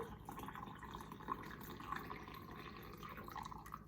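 Homemade chicken broth strained and poured into quart canning jars, a steady liquid trickle with soft splashing and dripping running throughout, fairly close and moderate in level.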